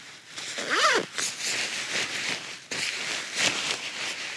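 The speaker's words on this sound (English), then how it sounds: "then you can zip that up" A zipper pulls shut on the kangaroo pocket of a Thermarest Honcho Poncho, with close, crisp rasping strokes: one long zip, a pause, then another run of zipping.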